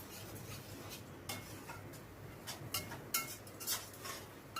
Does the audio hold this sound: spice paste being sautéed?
yes